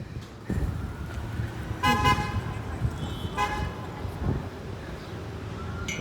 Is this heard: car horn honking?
yes